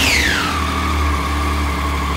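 A stock motorcycle with an unmodified standard exhaust and an Aqua clutch idles steadily and close by, a falling whine fading in its first half-second over the low, even engine hum.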